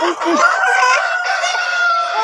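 Laying Tiger hens on a poultry farm cluck and call close by in a steady stream, several birds overlapping with no voices over them.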